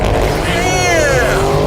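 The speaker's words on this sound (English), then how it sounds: "Release the brake and hold on tight." A 2014 Porsche Panamera launches hard from a standstill under launch control, its engine revving up in a loud rising sweep with tire noise, continuous and close.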